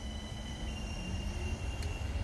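A Sheffield Supertram running on the tram-train route at Carbrook gives a steady low rolling rumble with a faint high whine, heard at moderate distance with no talk.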